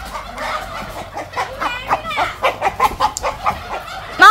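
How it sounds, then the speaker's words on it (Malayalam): A chicken clucks in a rapid series of short, sharp pulses, fairly close and loud, with little else around it. "അടുത്ത കോഴിയും കൂടി ഇപ്പോൾ വരും."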